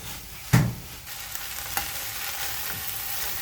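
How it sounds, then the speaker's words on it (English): Omena fish frying in a pan, a steady close sizzle broken by a sharp scrape of stirring near the start and a lighter knock later. "So while I'm stirring, at this point you cannot leave them for long, they can burn."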